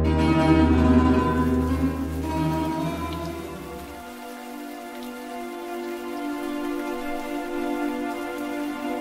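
Steady rain pours down loudly and continuously, with a dense hiss of drops and a heavy low rumble that drops away partway through.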